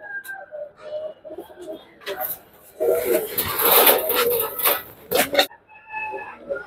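A pair of leg-banded red checker racing pigeons coo in soft, repeated throaty calls. A burst of louder rustling and flapping noise in the middle briefly covers them.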